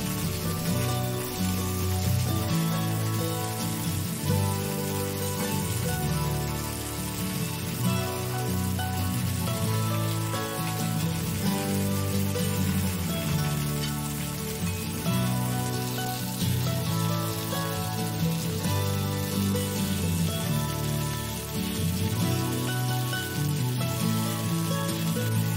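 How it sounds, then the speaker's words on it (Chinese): Food pan-frying for a high-protein, low-fat diet salad: a continuous close sizzle and crackle of hot oil, steady and even throughout, with a low hum beneath and no talking. "继续煎佢嘅"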